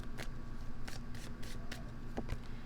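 Oracle cards are pulled and shuffled from a deck, several soft papery swishes in quick succession, close and steady with no talking.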